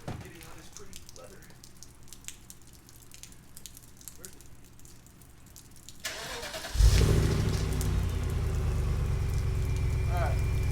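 A Mercedes E63 with its stock muffler still fitted sits quietly, then its engine barks to life around midway and holds a loud, rumbling rev to the end, after some low voices near the car.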